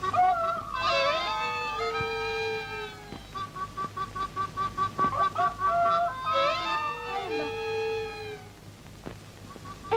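Chickens squawk and cluck in a rhythmic run of short calls, with longer drawn-out cries at the start and end, heard close in an old 1940s Hindi film scene with no talking.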